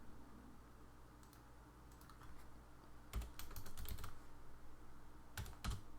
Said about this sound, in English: Apologies for the keyboard sounds.